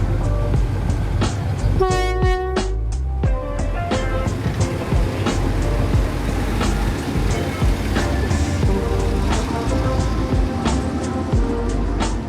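A train rumbles steadily across the Bridge on the River Kwai, sounding several short horn toots early on over the continuous rolling clatter of wheels, loud and close.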